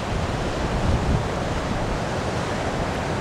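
Ocean waves break on rocks after Hurricane Sandy, a loud, steady broadband wash of surf with wind rumble across the microphone and no talking.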